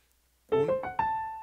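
Piano playing a short Mozart sonata passage with an ornament, a few quick close notes rising to a sustained ringing tone, clean and near, alone without talking.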